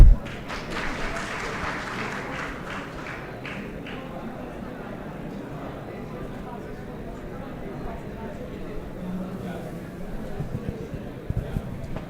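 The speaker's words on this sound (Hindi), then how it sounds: "a big round of applause for our speakers" Student audience at a lecture on the Indian Constitution applauds the speakers, clapping strongest at the start and fading within a few seconds into murmuring voices and room noise.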